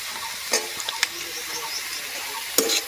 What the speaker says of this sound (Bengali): তেল দিয়ে আর একটুখানি ভালো করে একটু ভেজে নেব